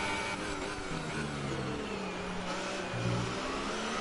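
Formula 1 race cars in a racing video game at the German Grand Prix, engines droning and shifting pitch while cornering, a steady loud mechanical whine with no talk.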